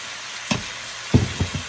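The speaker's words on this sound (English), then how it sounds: "As you can see, I'm adding the pork." Raw pork hits a hot wok of stir-fried vegetables with a sharp sizzling burst, followed by three shorter crackling flare-ups as the meat settles and is moved, all close and fairly loud.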